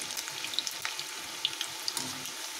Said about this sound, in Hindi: ये हमारे पकोड़े फ्राई हो चुके हैं